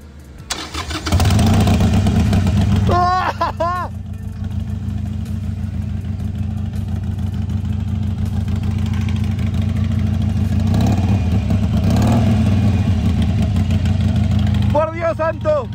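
A Harley-Davidson Iron 883 motorcycle engine in neutral cranks and fires up, settling into a loud, steady, deep idle that runs close and continuous for about fourteen seconds, with short starter whines near the start and end.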